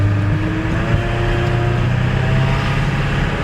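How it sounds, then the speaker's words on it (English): A 1999 Ford F350 with a 7.3L PowerStroke diesel idles loud and close, a steady low rumble with a droning hum and a whine from its noisy power steering, continuous throughout. "God, that diesel engine sounds so good."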